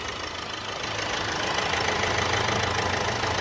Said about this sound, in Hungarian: itt duruzsol az Ecotec dízelmotorunk